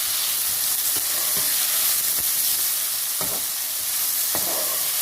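Mixed vegetables for a vegetable korma frying in a pan, a steady broadband sizzle with a few sharp stirring scrapes and clicks. Close and continuous, no voices.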